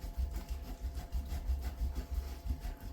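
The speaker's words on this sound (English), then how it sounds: "get the pecorino going. So, easiest way, just put the eel grater, put it on its side." Pecorino cheese grated by hand on a grater laid on its side, giving close, steady rhythmic rasping strokes with a low scraping rub throughout.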